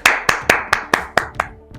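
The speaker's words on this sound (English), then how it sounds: "Clap for me." A single person claps their hands about eight times in a steady, fairly quick rhythm, crisp and close, the last claps trailing off softer, with no talking.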